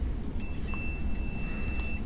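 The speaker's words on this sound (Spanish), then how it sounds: "Va a sonar un bip. Esa es la continuidad." A multimeter gives a steady high continuity beep as its probe tips touch, a thin sustained tone lasting well over a second over a loud low-frequency background rumble, with a couple of faint clicks.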